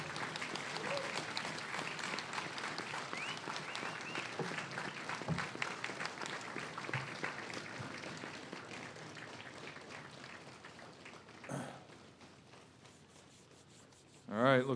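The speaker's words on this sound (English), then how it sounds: "please give a round of applause to General Paul LaCamera and Mrs. Teresa LaC" A crowd at an outdoor USFK/UNC/CFC military change of command ceremony in 2024 applauds steadily and fairly faintly, the clapping fading out before a short burst of speech at the end.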